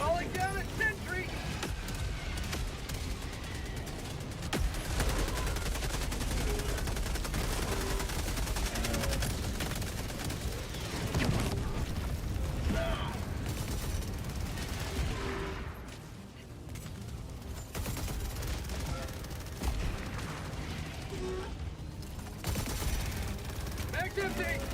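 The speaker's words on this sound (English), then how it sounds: "Calling down a sentry." Rapid automatic fire from a deployed sentry turret in Helldivers II rattles in dense bursts amid other gunfire and battle noise, with voice callouts heard over the shooting.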